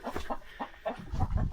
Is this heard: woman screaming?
no